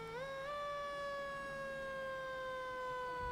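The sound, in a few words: fire engine siren in Independence Day parade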